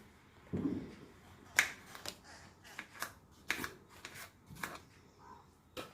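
A kitchen knife cuts tomatoes and tamarind on a board, giving about half a dozen sharp, separate chopping taps at irregular intervals, close and fairly quiet.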